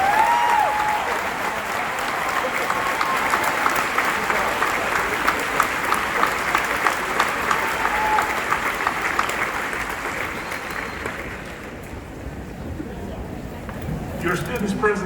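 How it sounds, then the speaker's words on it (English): An audience at a high school graduation ceremony applauds steadily for a long stretch, a dense wash of clapping that dips briefly near the end before picking up again. "Graduates, please join me in giving them a round of applause."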